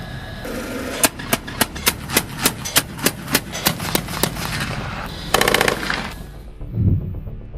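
A remotely controlled 12.7mm machine gun on a Boxer armored vehicle fires about a dozen evenly spaced, loud heavy shots, followed by a brief rapid burst and a low rumble as it ends.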